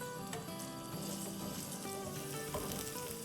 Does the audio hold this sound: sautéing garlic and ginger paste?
yes